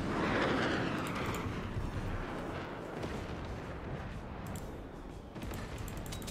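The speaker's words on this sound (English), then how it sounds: "Oh, the flak is hitting him." Flak anti-aircraft fire in a video game air battle, a distant rolling barrage of muffled thuds and rumbling bursts blending into a continuous roar, fairly faint and without talk.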